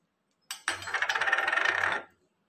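Dry toor dal poured into a pot of soaked rice and water for a baby's lunch, a brief start and then a dense rattling patter of hard lentils lasting about a second and a half before stopping cleanly.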